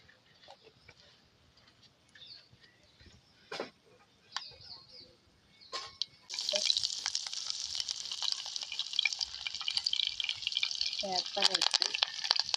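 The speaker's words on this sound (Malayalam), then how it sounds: "നമ്മളിത് ഇഞ്ചിക്കറി ഇണക്കാനായിട്ട് വറവെടുക്കാൻ പോവുകയാണ്" Mustard seeds and spices frying in hot oil for a ginger curry tempering, a bright steady sizzle with crackling pops that starts abruptly partway through and continues loudly, with quieter kitchen clatter before it.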